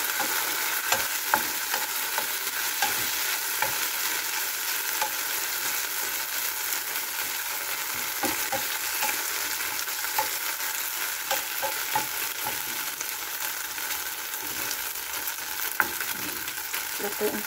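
Ground beef for nachos sizzles and fries in a covered pan, a constant crackling hiss close by with occasional small pops and faint stirring sounds, steady throughout with no voices.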